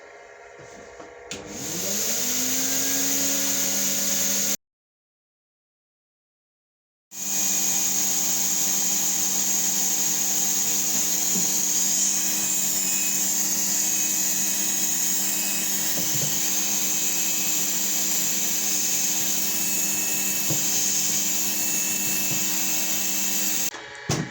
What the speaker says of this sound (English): pop the faceplate back on, and then turn the vacuum on again